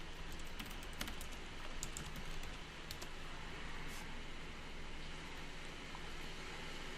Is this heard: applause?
no